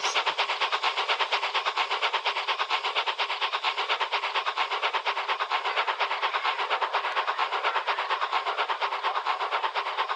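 Train running fast in an animated story, a steady rapid clickety-clack of wheels on rail joints with dense mid-to-high rumble, continuous and close throughout without any talking.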